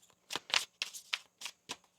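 Tarot cards shuffle by hand close up in a quiet room, making a series of soft riffling and slapping bursts in an uneven rhythm, about seven quick shuffles in a row.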